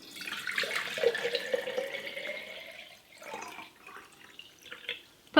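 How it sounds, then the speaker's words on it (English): Water running into a container used to suspend a sweet potato slip, a soft, trickling pour that rises and falls in level over several seconds, fairly quiet and close, with no talking. "We're gonna fill this up with water."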